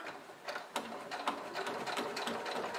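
A domestic sewing machine stitches a seam on fabric for a small bowling-style bag, its needle chattering in quick bursts with brief pauses, close and clear with no talking.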